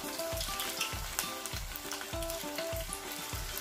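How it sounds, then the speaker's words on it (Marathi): Marinated chicken pakoras dropped into hot oil, a dense crackling sizzle with a soft, rhythmic bubbling pulse, close and steady throughout. "आणि आता आपण तळायला सुरुवात करत आहोत चिकन पकोडे"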